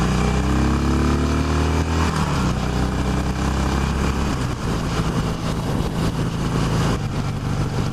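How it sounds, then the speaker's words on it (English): A 2016 Harley-Davidson Roadster motorcycle engine roars loudly and continuously while riding, rising in revs and then settling after a gear change, with a deep throbbing rumble and rushing wind. "They're a revvy little bike."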